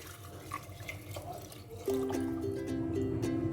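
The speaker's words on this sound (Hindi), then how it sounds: "मैंने पानी डाल दिया।" Water poured from a glass into a cooking pot of ground spice paste with red chilli and salt for meat, a steady liquid splash and fill entering midway and continuing loud and close over kitchen background noise.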